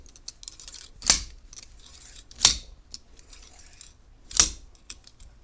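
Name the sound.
twisting safety wire on grips with pliers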